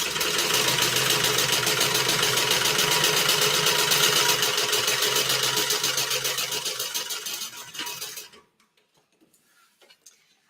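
A sewing machine runs close and loud, its needle hammering in a fast, even rhythm for about eight seconds before slowing and stopping, then a few faint handling sounds.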